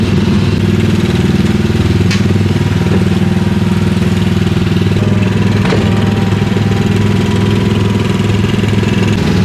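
Small Autopia ride cars at Disneyland Paris's Discoveryland idle and rumble with steady low engine drone, several running together at close range, with a brief click or two but no talking.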